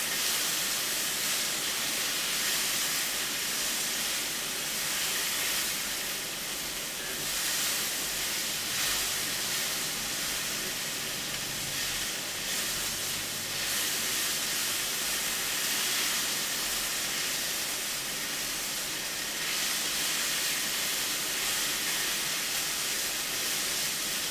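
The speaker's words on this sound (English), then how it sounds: "That sizzle just sounds so good." Salmon and prawns sizzling in a hot pan for a biryani, a dense, continuous hiss that stays loud and even for the whole stretch with no talking.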